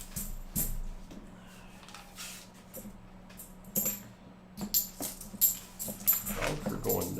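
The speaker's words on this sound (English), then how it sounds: "Dogs are going nuts about something." Dogs indoors yip and whimper excitedly in short, scattered bursts that build toward the end, fairly faint and mixed with someone talking and some household clatter.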